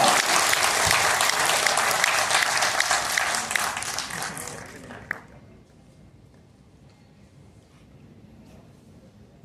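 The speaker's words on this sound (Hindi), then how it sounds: "बहुत सारी तालियां" An audience at a school award ceremony breaks into loud, dense applause that holds for about four seconds, then drops off quickly, leaving scattered faint claps and low room murmur.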